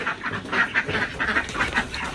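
Several ducks quack in quick, overlapping bursts close by, a busy, fairly loud chorus with no talking.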